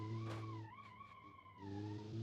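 Race car in a racing video game, 1980s sports car braking hard: a steady engine drone drops in pitch as the brakes bite, then a tire squeal, then the engine climbs again, loud and close with no voices.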